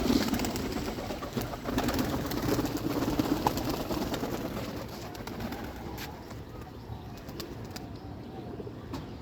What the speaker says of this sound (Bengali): তিনটা কবুতর বেরিয়েছে, কবুতর আসছে